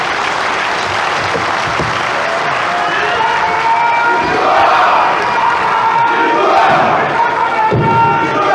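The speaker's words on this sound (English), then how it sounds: "Can we give him another round of applause" Audience applause and cheering at a South East Vision 2050 forum, loud sustained clapping from a large crowd with shouts and whoops swelling midway.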